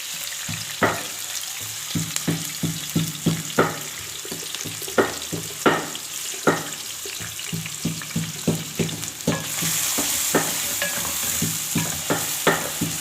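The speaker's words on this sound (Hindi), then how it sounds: "प्याज को ऑयल में फ्राई कर लें।" Chopped onion frying in oil in a pan, a steady sizzle under repeated stirring clatters with a spoon, ongoing for several seconds with the frying hiss growing slightly brighter near the end.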